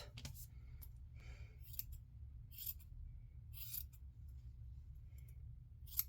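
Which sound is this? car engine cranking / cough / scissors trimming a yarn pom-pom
scissors trimming a yarn pom-pom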